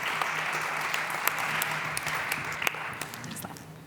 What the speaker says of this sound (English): Big applause for Carlos.